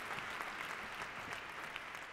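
A conference audience applauds after a tech keynote, a short, faint burst of steady clapping from many people.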